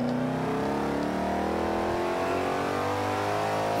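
A Ford Mustang in the Forza 5 racing game, rear-wheel drive, revs hard with its engine note climbing and shifting through gears, loud and continuous with no talk.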